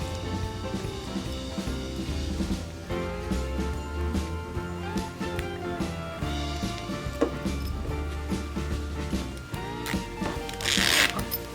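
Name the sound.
fitting the slider onto a zipper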